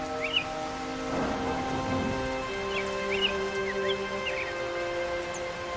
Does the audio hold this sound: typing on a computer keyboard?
no